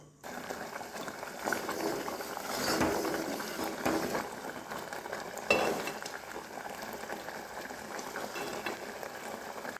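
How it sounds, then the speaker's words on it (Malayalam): Salt being stirred into puli inchi, a Kerala tamarind-ginger relish, in a pan, giving a steady scraping and bubbling texture with a few louder scrapes, close and continuous, with no talking. "ഇതിലേക്ക് കുറച്ച് ഉപ്പും ഇടുക എന്നിട്ട് നല്ലവണ്ണം ഇളക്കുക"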